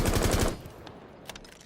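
Automatic gunfire in Rainbow Six Siege, a rapid burst of closely spaced shots lasting about half a second, then cutting off to quiet room tone with a faint click.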